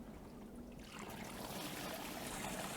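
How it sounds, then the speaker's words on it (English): Water is poured onto GF 4.4 geotextile fabric and drains quickly through it. A soft trickling pour is heard close by, faint at first and then a steadier splashing flow. "So that's going through almost as fast as I can pour it."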